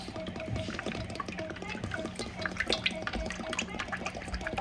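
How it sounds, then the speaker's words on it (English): Canola oil pouring in a steady stream with soft gurgling, while a low hum and occasional clinks sound in the background of a kitchen. "I'm finna pour this canola oil"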